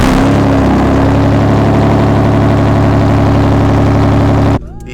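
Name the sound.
V8 engine exhaust running in BMW E36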